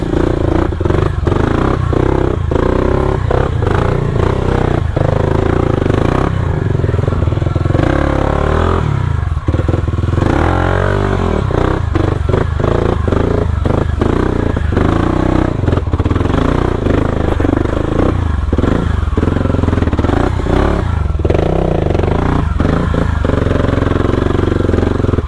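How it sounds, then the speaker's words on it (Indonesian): A motorcycle on a hiking trail up to Puncak Upas on Mount Tangkuban Parahu runs loudly and close, its engine droning and revving steadily throughout, with repeated clattering knocks and scrapes as it is pushed uphill. "Ini kayaknya harus naikin dulu motor ini ke atas."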